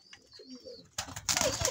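A pigeon coos softly and faintly a few times, followed by louder rustling or fluttering near the microphone.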